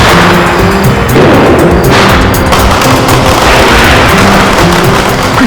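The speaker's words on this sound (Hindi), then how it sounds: "अनन्या आओ ना, पटाखे जलाते हैं।" Firecrackers burst in a loud, dense barrage of overlapping cracks and booms during festive celebrations, filling the whole stretch without pause.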